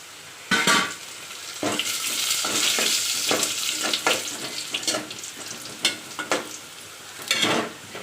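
Four dried red chillies crackle and sizzle in hot oil while tempering for a thin South Indian sambar, with a steady bright hiss broken by sharp pops and spatters, close and fairly loud.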